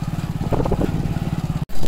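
A motorcycle running along a road at night, its steady engine drone close and continuous, with a brief cutout near the end before it returns.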